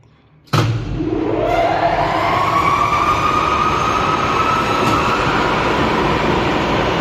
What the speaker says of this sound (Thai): สตาร์ทปั๊มที่หนึ่ง